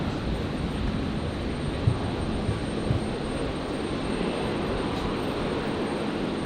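Jetstar airliner in Pride livery on its landing roll down the runway, a dense continuous engine roar with a steady broadband wash and no talking.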